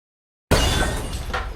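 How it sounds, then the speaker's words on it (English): A sudden loud crash of someone smashing through a warehouse roof, a heavy shattering impact after silence followed by a dense rumbling spray of debris. "Stormfront crashed through the roof of the warehouse."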